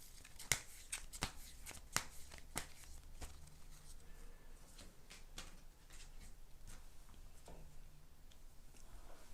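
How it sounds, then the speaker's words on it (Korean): Tarot cards being shuffled and drawn, giving a series of sharp riffling snaps at the start, then softer continuous card rustling with no talk. "제가 조언 카드 뽑아보도록 하겠습니다."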